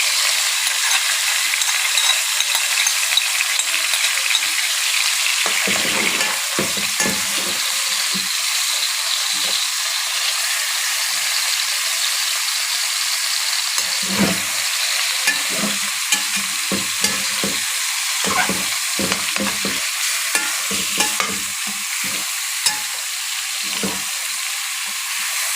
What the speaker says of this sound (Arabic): حط البصله بتاعتنا